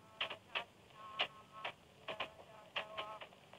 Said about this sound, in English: The dried grain is then pounded by the young women